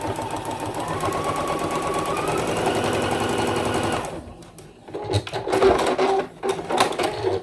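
A sewing machine stitches applique pieces onto quilt fabric for a Christmas tree quilt, running steadily and fairly loud for about four seconds, then stopping and giving way to short handling clicks and rustles.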